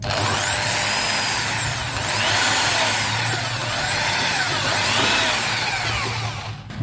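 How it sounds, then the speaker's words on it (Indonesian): A power drill bores steadily through a part being prepared for a homemade power amplifier, its motor whining continuously and close with slight rises and dips in pitch over several seconds. "Nah kita bor aja."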